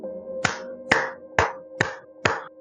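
A storyteller claps five times to imitate clapping heard in a ghost story: sharp, close, evenly spaced claps about half a second apart, each standing clearly over a faint steady hum.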